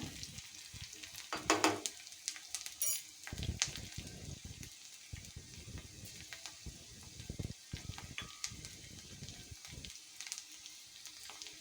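Four green chillies sizzle and crackle in a hot pan, with close, uneven pops and occasional sharp clinks as they are stirred and tossed, and no one speaking.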